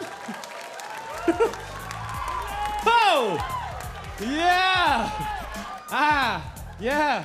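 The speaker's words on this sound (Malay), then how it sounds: "Tepukan untuk Jozan." Applause and cheering from a studio crowd at the Maharaja Lawak 2011 comedy show, clapping and whoops mixed under lively voices and a rising, swooping sung or shouted tone.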